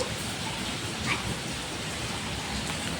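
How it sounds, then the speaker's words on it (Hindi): Heavy rain pours down steadily during a sudden downpour, a dense constant hiss at moderate level with no break, no voices over it. "पूरी भयंकर बारिश आ चुकी है।"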